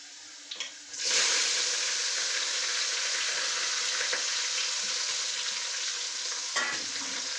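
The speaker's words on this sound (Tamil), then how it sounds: "நல்லா பொரிஞ்சதும் அரிஞ்சு வச்சிருக்கிறத வெங்காயம் கருவேப்பிலை எல்லாத்தையும் அப்படி போட்டுக்கிறோம்" Sliced onions and curry leaves hit hot oil after garlic has fried, bursting into a loud close sizzle that holds steady with occasional stirring scrapes; no one speaks.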